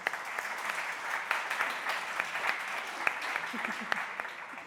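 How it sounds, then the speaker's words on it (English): A panel discussion audience on innovation districts breaks into steady applause, a dense even wash of clapping with a few sharper claps standing out, filling the room at moderate loudness. "Perhaps we can start with a round of applause to welcome our panel."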